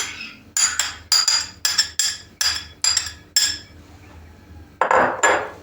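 A utensil clinks and scrapes against a dish of fresh cabbage and tomato paste in a series of sharp, regular strokes, pausing briefly before two final louder scrapes.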